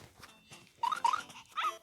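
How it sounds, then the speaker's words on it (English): A cartoon puppy in the Codespark Academy coding game gives short, high, squeaky yips in a quick cluster, fairly close and moderately loud over a soft game background with no talking. "the puppy's just saying hey, which is our orphan puppy language"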